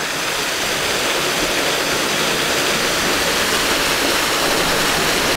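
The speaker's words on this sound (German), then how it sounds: "Und dann sieht man das Wasser da so runterfallen." Water pouring down at a watermill wheel, a loud, continuous rushing roar that holds steady throughout with no voices.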